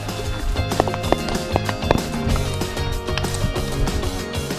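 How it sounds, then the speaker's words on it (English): Several horses' hooves clip-clop on hard ground in a quick uneven rhythm, close by, with a low rumble of movement underneath, on a trail ride up a volcano near La Fortuna, Costa Rica. "Riding some horses up a volcano, you know, normal day."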